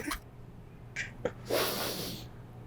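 A close, breathy sniff followed by a longer hissing inhale through the nose, with a faint tap in between and no talking.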